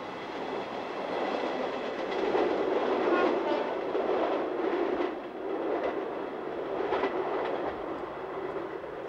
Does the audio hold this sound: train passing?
yes